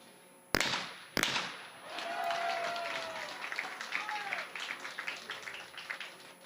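Two quick shotgun reports crack out at a men's skeet final of the Asian Shooting Championship in Changwon, followed by a swelling crowd cheer with whistles and clapping that carries on to the end.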